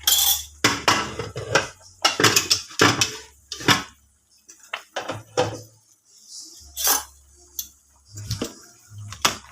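A metal spoon stirs beef nilaga soup with pechay in a cooking pot, giving sharp, irregular clinks and scrapes against the pot in close, separate bursts with quiet gaps between them.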